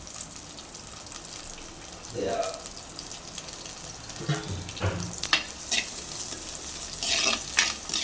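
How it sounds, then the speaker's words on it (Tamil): Onions sauté in a pan with a soft, crackling sizzle broken by scraping stirs, and someone talks at times over the cooking. "வெங்காயம் வதங்கட்டுங்க. பாதி அளவுக்கு வெங்காயம் வதங்கட்டும்."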